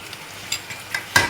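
Chicken meat cooking in a pan, a quiet sizzle broken by a few short scraping stirs, the last one louder, with no voices.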